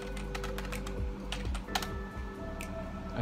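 Typing on a computer keyboard, a close, steady patter of key presses with a faint hum underneath and no talking.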